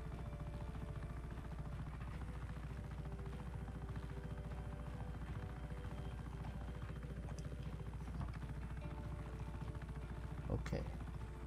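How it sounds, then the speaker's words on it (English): A helicopter in the Just Cause 3 video game keeps up a continuous low, rhythmic rotor thump and whine throughout, fairly steady and moderately loud, with a faint sharp crack near the end. "What in the world is going on with this helicopter?"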